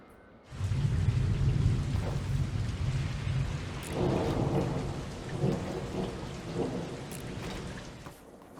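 A thunderstorm in the video game Planet Coaster 2: steady heavy rain with loud rolling thunder that swells and fades several times, close and full, with no voices.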